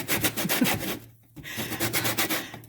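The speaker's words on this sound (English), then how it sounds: "So it's going to be 4 oranges that I'm going to grate." Oranges rubbed against a grater for zest for a polenta cake, a quick rhythmic rasping scrape with a brief pause midway, close and steady with no talking.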